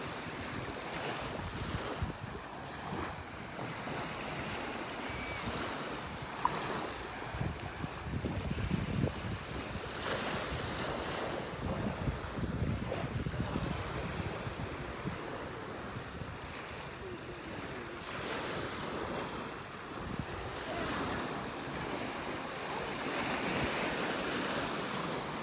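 Small ocean waves wash onto a foggy beach in North Naples, Florida, under constant gusty wind buffeting the microphone, making a steady, even roar for the whole stretch with no voices.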